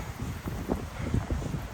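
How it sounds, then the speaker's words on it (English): Steady wind on the Three Fingered Jack Loop near Mount Jefferson on the Pacific Crest Trail rumbles and buffets the microphone, a continuous low roar with slight gusting and no voices. "Very windy today."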